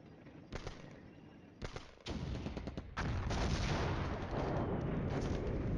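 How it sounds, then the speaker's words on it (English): Artillery counter-battery fire in the Cold War wargame Flashpoint Campaigns: several heavy booming salvos, with a quieter opening that builds into a dense, sustained rumble of overlapping blasts. "Those guys are automatically firing a counter battery mission"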